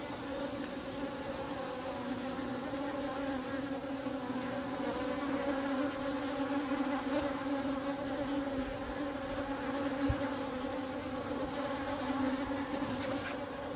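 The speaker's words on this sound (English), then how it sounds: "This, if you didn't know it, is the distinctive buzz of drones." A dense, steady buzzing of many honeybee drones massed inside a hive in autumn, droning continuously at close range without pause.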